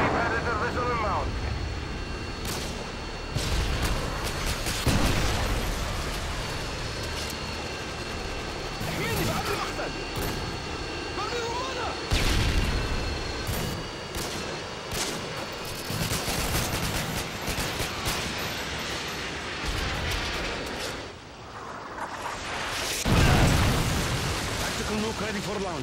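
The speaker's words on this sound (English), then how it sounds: "Friendly Predator missile inbound." Video game air strikes and Predator missiles land amid constant gunfire, sharp explosions and aircraft roar in a busy, loud battle mix, with a game announcer voice speaking over the action.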